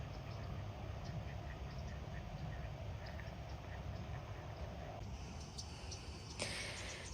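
Ducks quack faintly and intermittently in an open outdoor setting, over a steady background hiss with no talking.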